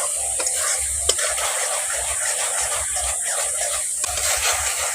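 Red chili powder is stirred into a sizzling spice paste in a pan for a fish roe and potato dish. A spatula scrapes and knocks rhythmically against the pan over a continuous close hiss.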